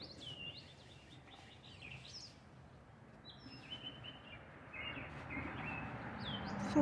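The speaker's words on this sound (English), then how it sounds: "You just hear the birds chirping." Several birds chirp and tweet intermittently at a distance in the morning over a faint, steady outdoor background hum.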